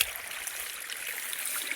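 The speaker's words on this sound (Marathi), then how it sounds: "किती पाणी वाहत आहे तर" Water flows steadily along a channel through a paddy field, a continuous hissing rush with no pauses, close by and fairly loud, with no voices.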